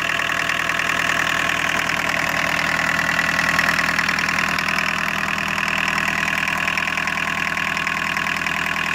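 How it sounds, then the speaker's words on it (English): A 1981 VW Rabbit pickup with a VNT15 turbo diesel idling close by, a loud, steady, knocking diesel clatter with a continuous high turbo whine over it, no talk. "I'm sure that the microphone's picking up that turbo whine."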